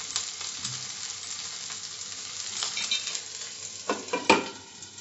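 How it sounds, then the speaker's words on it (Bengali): Goan-style recheado mackerel fries in an oiled pan, its second side cooking; a steady, moderate sizzle runs with crackles and a few louder spatters and utensil scrapes near the end. "অপরপিঠটাও 2-3 মিনিট ভাজবো।"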